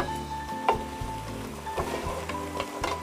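Fried red chili being stirred into a tempeh and potato mix in a pan, with a soft sizzle under repeated scraping and clattering strokes at an irregular rhythm, close by and fairly loud.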